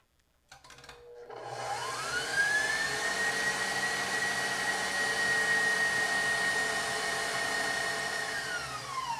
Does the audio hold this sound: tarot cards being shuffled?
no